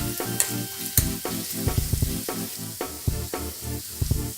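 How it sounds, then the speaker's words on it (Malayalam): Garlic and ginger fry in hot oil in a pan while a spoon stirs them, pickling gooseberry amla; a close, steady sizzle broken by rhythmic scraping stirs and clinks, repeating every half second or so. "ഈ വെളുത്തുള്ളി ഇഞ്ചിയും എണ്ണയിൽ കിടന്ന് നന്നായിട്ടൊന്ന് വഴന്നു വരണം."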